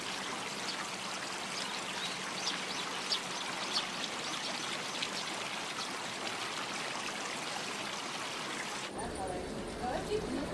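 Water from a carp tank at a Japanese riverside home flows back into a man-made channel, a steady rushing trickle and stream heard close and continuous, then cutting off near the end.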